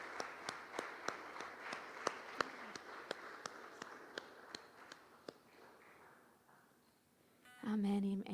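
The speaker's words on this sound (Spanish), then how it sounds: "Dale un aplauso a nuestro Dios." A church congregation claps in a steady rhythm, faint and distant, with the beat slowly fading before a voice speaks up at the end.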